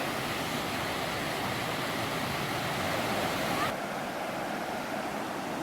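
Gragg Prong Falls in North Carolina's Pisgah National Forest pours down in a steady, dense roar of falling water. The rushing wash is close, loud and unbroken, and it thins slightly near the end.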